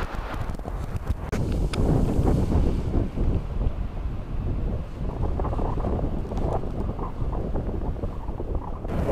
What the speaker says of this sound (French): le vent est bien régulier, c'est ce qui est super en Bretagne